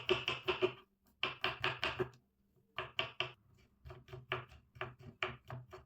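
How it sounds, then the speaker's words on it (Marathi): Rapid chopping of garlic with a knife on a cutting board, bursts of quick, crisp, evenly spaced knocks separated by short pauses, close and clear with no talk. "आता आपण लसूण चॉप करून घेऊया."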